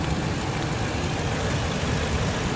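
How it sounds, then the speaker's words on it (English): Ford high top van engine idling while warming up after sitting unused for over a month, a steady low rumbling drone that is constant and close, with no talk. "Let the engine warm up because it hasn't ran in well over a month."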